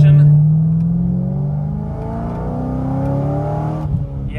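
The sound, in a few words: Chevrolet C6 Corvette LS3 with big cam accelerating, partial throttle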